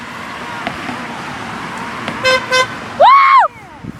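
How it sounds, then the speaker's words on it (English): Car horns honking in traffic at a person in a morph suit: two short toots, then a longer, louder honk over road noise. "Honk your horn!"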